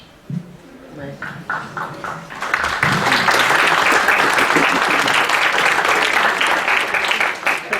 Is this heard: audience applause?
yes